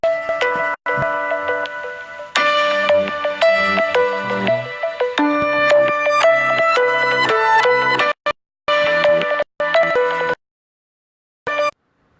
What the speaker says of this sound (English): had a call, came through on my phone for some reason